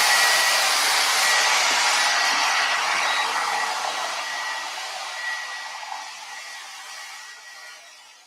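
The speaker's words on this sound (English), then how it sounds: "I'm going to use the blow dryer" A hair dryer blows with a loud, steady rushing whoosh that slowly softens toward the end.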